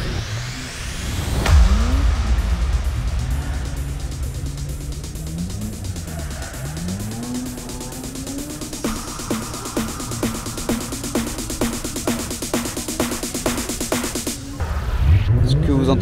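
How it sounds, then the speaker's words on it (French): Cars drifting somewhere in the distance, with engines revving in long rising and falling pulls and occasional tire squeal, heard continuously under a person talking nearby. "Ce que vous entendez, c'est des voitures qui font du drift"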